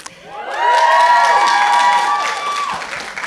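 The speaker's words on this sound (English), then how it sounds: "No, you don't get extra credit for cheering." An audience at a scholarship and awards ceremony erupts in cheering and clapping with high whoops, building quickly, holding loud, then easing off.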